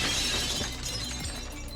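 A shatter effect sounds in the Marvel Legendary card game as a villain card is shattered: a bright, crackling burst of breaking glass that fades into a scattered tinkling tail, fairly quiet and on its own with no talk.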